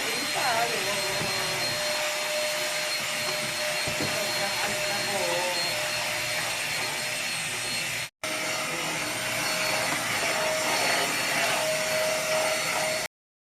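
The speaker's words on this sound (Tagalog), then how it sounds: "So, dito naman tayo sa ating vacuum," A household vacuum cleaner runs loudly and continuously at close range, with a steady whine and a brief cut-out partway through before it resumes and then stops abruptly.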